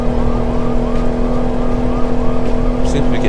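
Police siren wailing in American Truck Simulator, a steady repeating electronic whoop over continuous truck engine drone, fairly loud and close, with a brief higher chirp near the end.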